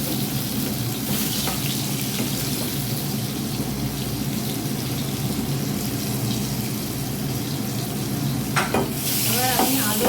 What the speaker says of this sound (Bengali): মাছ ভাজা হয়ে এসছে, আর 3টে মাছ ভাজা হলে হয়ে যাবে।